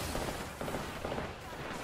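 Rapid gunfire bursts in a shooter video game, sharp repeated shots clustered across the moment at steady loudness, with a busy game mix underneath.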